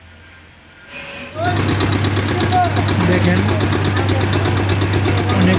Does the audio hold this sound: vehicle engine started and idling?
yes